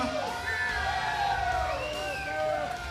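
A packed fight crowd at a Walkout FC 8 veterans MMA event cheers and shouts for fighter Jody, a loud, continuous roar with whoops rising and falling throughout.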